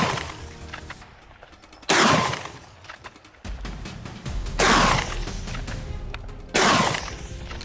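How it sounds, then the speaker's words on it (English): A volley of gunshots rings out on an Arizona farm to drive off feral hogs: several loud, sharp blasts spaced a second or two apart, each trailing off in a rumbling echo. "a volley of gunshots rang out, stopping them before they could set foot on the main road"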